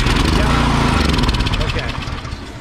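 A Craftsman snow blower engine, primed with carburetor cleaner, fires up and runs with a loud, close, rhythmic chugging that slowly eases off, while someone talks over it.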